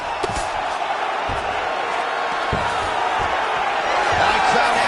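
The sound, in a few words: crowd cheering in UFC 5 video game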